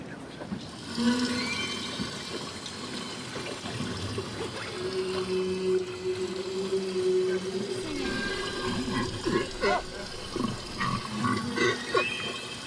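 Humpback whale song picked up through the hull of a boat at sea: drawn-out tonal moans and higher wavering calls under watery sloshing and low rumble, fairly faint and continuous.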